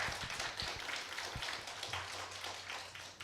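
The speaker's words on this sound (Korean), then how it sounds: "큰 격려의 박수 한번 부탁을 드립니다" Clapping from a lecture audience for a professor at a philosophy forum: a moderately faint scatter of hand claps with a few sharper individual slaps, heard alone under a low hum.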